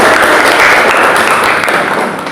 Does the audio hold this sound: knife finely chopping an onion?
no